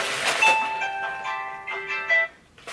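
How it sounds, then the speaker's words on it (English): A phone alarm or ringtone plays a bright electronic melody of sustained tones, moderately loud and close, running for a few seconds with no talk over it. "Sorry, that was my alarm."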